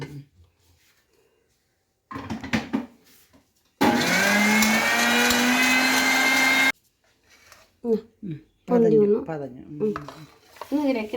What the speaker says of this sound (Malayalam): നമുക്ക് ഇത് നേരത്തെ പോലെ നന്നായിട്ട് മിക്സ് അടിച്ചെടുക്കുക മാത്രമല്ലേ ഉള്ളൂ മുട്ടയും വാനില എസൻസും